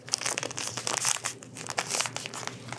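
A plastic bag of hot cocoa mix folded over by hand, giving close, continuous crinkling and crackling that rises and falls for a few seconds.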